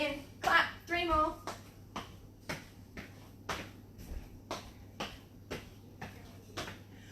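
Hand claps during a stroke exercise class come in a regular rhythmic series of sharp, fairly close slaps, with a voice counting out the moves between the early claps.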